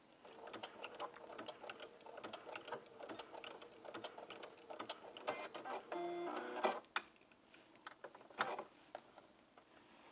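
A sewing machine backstitches a seam on a jumpsuit in quick bursts of rapid mechanical ticking. The bursts stop and start, with a brief faster whir near the middle, and the sound is close and fairly quiet.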